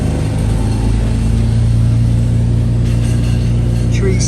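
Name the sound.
tree chipper running next door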